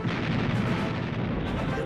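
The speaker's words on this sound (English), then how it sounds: "Below deck, crews load, fire, and reload over and over again." The battleship USS Texas fires its naval guns in heavy, booming rolls of artillery that blur together into a loud, rumbling barrage lasting the whole stretch.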